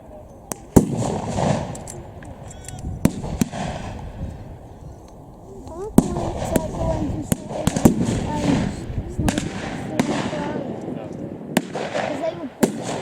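Rifles and machine guns fire at a WW2 battle reenactment at a fortress, sharp scattered shots cracking at mid distance with pauses between them, while a commentator talks over the action.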